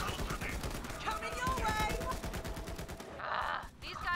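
Rapid automatic gunfire in the video game Borderlands 3, dense bursts of shots layered with game effects and background chatter, with voices talking over it.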